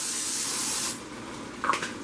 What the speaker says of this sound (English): Let's spray first, so we don't want nothing to stick.